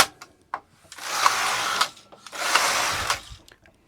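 Carriage of a European Singer Superba knitting machine sweeps twice across the needle bed while knitting waffle stitch, each pass a long whirring rasp, separated by sharp clicks and knocks of the mechanism, close and alone.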